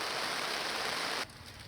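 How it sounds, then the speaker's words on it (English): Dense, steady hiss of heavy rain that abruptly drops to a quieter patter near the end; no voices. "another day, another downpour"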